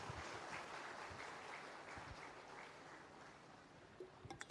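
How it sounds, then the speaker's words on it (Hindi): Applause from an audience welcoming a speaker at a public government event in Sukma, a steady broadband crowd clapping that continues throughout and fades slightly near the end. "जोरदार तालियों से स्वागत करें।"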